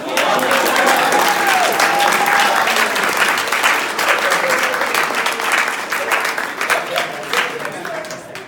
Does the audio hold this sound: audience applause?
yes